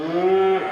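A single cow gives one close, loud, drawn-out moo with a steady tone that drops off at the end, heard alone without voices.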